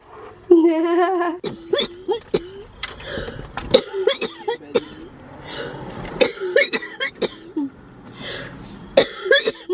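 Repeated short coughs and throat-clearing bursts, some with a laughing quality, close and fairly loud, scattered irregularly across the clip.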